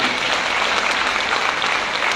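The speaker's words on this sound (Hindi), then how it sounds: "एक बार इनके लिए जोरदार तालियां होनी चाहिए" Loud, sustained audience applause at a pension rights conference in Lucknow, a dense steady roar of many hands clapping that holds evenly from start to finish.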